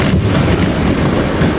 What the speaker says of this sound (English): a device that fires a hose filled with plastic explosives. After being launched across a minefield, it was detonated,